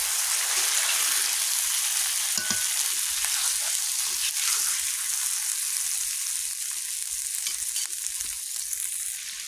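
Potatoes, eggplant and plantain frying in spiced oil with kasuri methi while being stirred, a steady bright sizzle with occasional scraping taps from the stirring, close and continuous with no talk.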